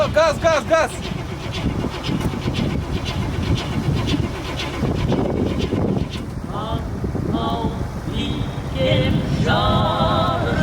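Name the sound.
1972 Cadillac Sedan De Ville engine being started and revved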